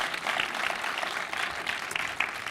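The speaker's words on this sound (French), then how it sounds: "on peut quand même les applaudir parce qu'ils étaient quand même avec nous" An audience at a short film festival's closing ceremony applauds in a steady, moderate wash of clapping, heard from a little distance.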